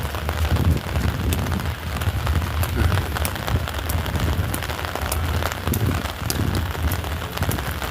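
Steady rain falls outdoors, a dense continuous patter of drops on hard surfaces with occasional louder individual splats, no voices.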